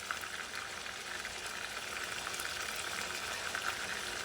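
Tomatoes with a sprinkle of smoked paprika sauté and caramelize in a pan, a steady close sizzle that holds evenly throughout with no talking.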